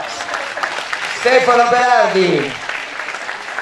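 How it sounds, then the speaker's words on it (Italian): An audience claps at a moderate level while someone speaks over it, the applause continuing faintly after his voice. "Dai, facciamo un applauso."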